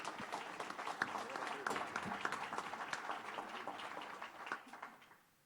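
Audience applause at an Acts of Excellence awards event in Watertown: a room of people clapping steadily at moderate volume, individual claps audible in the mix, fading out in the final second.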